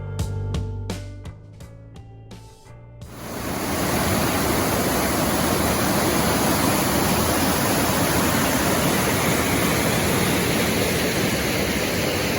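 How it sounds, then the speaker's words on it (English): A waterfall on Caribou Creek in the Temagami backcountry roars close by, a loud, constant broadband rush that swells in after a few seconds of tones and then holds steady throughout. "we headed south to explore the falls on CARIBOU Creek"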